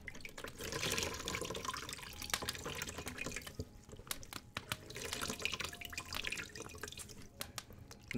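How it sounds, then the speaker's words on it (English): Water drains out of a sink in a quiet indoor setting, with soft trickling and irregular drips and gurgles that stay close and fairly faint and carry no voices. "Let's just go ahead and drain the water out now."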